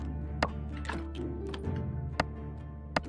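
Several sharp, irregular chops ring out at a chopping spot in the graveyard-management game Graveyard Keeper. The crisp thwacks land a second or so apart over soft, steady background music.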